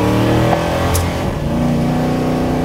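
A drag-racing car built from a Chevy Nova and a Camaro revs and accelerates hard, its engine roaring loud and close with a brief dip as a gear changes, then pulling steadily again.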